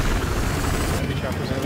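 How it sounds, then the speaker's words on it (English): Transport helicopter rotor noise in the video game Battlefield Hardline thrums loudly and steadily while a voice talks over it. "Transport chopper over there!"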